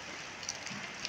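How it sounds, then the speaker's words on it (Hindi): Steady rain pours down in a constant hiss, with a few sharper drops standing out. "इतना तेज़ बारिश है"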